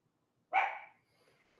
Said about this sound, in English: Can you guys hear the dog? Is that too loud?